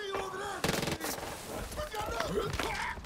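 Bursts of gunfire in Far Cry 5 crack out in short rapid volleys, including automatic fire, amid game sounds and a voice speaking over and between the shots.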